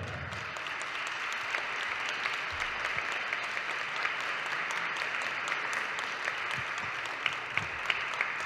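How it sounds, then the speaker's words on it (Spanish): Steady audience applause at a book presentation during the FIL Minería 2023 book fair, a continuous wash of clapping from a large crowd heard somewhat distantly, with a few sharper claps standing out near the end. "Un aplauso."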